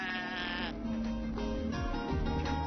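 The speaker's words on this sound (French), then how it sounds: "Après avoir observé tous ces jolis moutons" Sheep bleating close by in rural Xinjiang, several overlapping wavering calls one after another.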